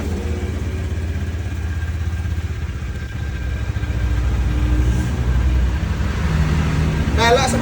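A 2017 Honda Scoopy motorcycle engine runs close by with a steady low rumble that thickens slightly partway through, and a voice talks over it near the end.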